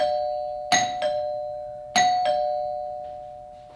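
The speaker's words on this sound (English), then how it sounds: "Okay, so you guys heard the door chime." A wired doorbell chime, newly fitted with a transformer, rings twice: each ring is a clear two-tone ding-dong that rings out and decays in a quiet room.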